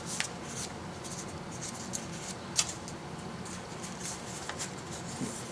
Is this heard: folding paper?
yes